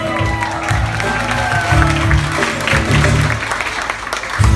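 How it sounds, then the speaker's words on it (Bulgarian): Audience applause and cheering for host Kamen Vodenicharov at a festive March fiesta show, a steady crowd clatter layered over loud, pulsing low music, with voices mixed in. "Аплодисменти за Камен Воденичаров!"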